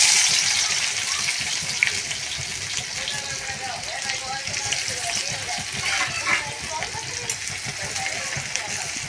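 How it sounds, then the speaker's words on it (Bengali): Chopped onions fry in hot oil in a kadai, a wok-style pan, while making ghugni: a loud, steady hiss of oil that runs unbroken throughout. "পেঁয়াজ কুচি দিয়ে দিচ্ছি। পেঁয়াজটা ভাজা হলে, পেঁয়াজ ভাজা হয়ে গেছে"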